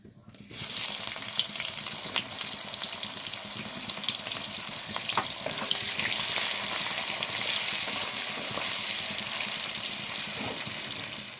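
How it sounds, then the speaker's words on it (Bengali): Chopped onions, two medium ones, drop into hot oil with whole garam masala and hiss into a loud, continuous frying sizzle after a brief quiet start, with faint clatter on top. "সেই পেঁয়াজ কুচিগুলোকে এবার গোটা গরম মশলার মধ্যে দিয়ে দেবো।"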